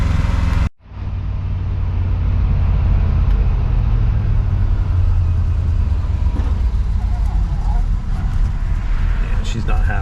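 A 1970 Chevelle's engine idles roughly with the idle set too low, a loud, close, low rumble that starts abruptly after a short cut and labors unevenly, with a person speaking over it.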